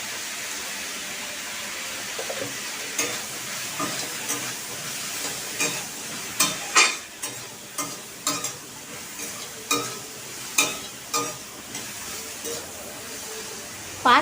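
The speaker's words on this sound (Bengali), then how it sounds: "পাঁচ 7 মিনিটের মতো আমি সবজিগুলোকে সব একসাথে নাড়িয়ে নেব।" Vegetables and water spinach stems seasoned with salt and turmeric fry in a pan while a utensil stirs them, giving a soft sizzle under repeated scraping strokes at an uneven rhythm.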